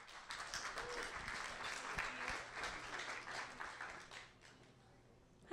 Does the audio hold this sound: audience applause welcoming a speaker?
yes